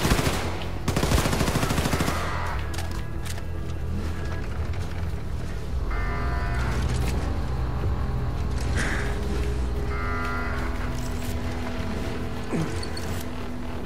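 Gunfire in the video game Wolfenstein: The New Colossus, opening with a dense burst of rapid automatic shots, then scattered sharp cracks and impacts over a constant rumbling game backdrop.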